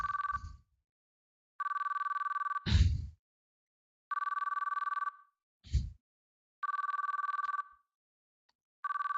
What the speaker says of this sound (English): My phone was making a noise in my pocket.